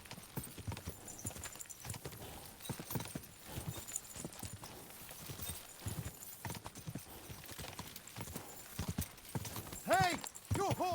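Horse hooves clip-clopping in the medieval video game Kingdom Come: Deliverance II, a rapid uneven rhythm of hoofbeats close by, mixed with game ambience and a brief whinny-like tone near the end.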